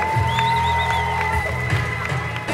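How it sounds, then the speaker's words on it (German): Crowd at a triathlon finish line cheers and applauds a newlywed couple, a dense steady roar of clapping and whoops with a faint whistle, mixed with an announcer's voice and music. "Das ist euer Applaus"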